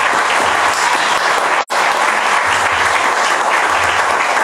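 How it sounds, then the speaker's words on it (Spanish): Sustained applause from an audience at a book presentation, dense and steady throughout, with one abrupt momentary cut partway through. "yo pido un aplauso muy especial"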